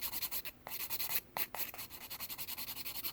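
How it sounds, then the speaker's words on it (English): A hand file buffs and blends a PolyGel nail extension in quick, rapid scratchy strokes, faint and close, with a few short pauses between bursts. "I'm just buffing and blending this extension"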